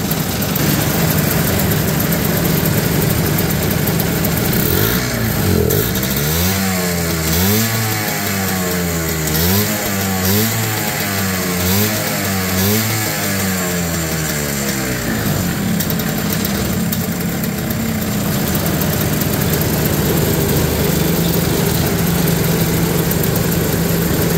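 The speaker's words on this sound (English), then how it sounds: "Kind of a typical old two-stroke though, it's just vibrating like crazy at idle" A small old two-stroke engine in a vintage Honda Odyssey dirt track race car runs loud and close, idling roughly, with a stretch of rhythmic revving in the middle before settling back to a buzzing idle.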